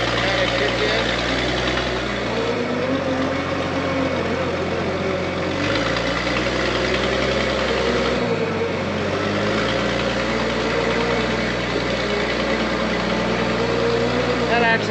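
An engine idles steadily after a valve adjustment, a low continuous rumble with a few stepped shifts in pitch as it settles, loud and close throughout.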